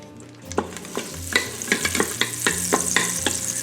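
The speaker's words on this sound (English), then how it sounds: "we've got a nice sizzle going on" Food sizzles and crackles in hot oil, with a utensil scraping and knocking in a rhythmic stirring pattern, close and fairly loud.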